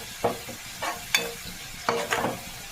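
Neem leaves and bitter gourd frying with spices in a pan, heard as several distinct scraping stir strokes over a low sizzle, the strokes coming in irregular bursts at close range without speech.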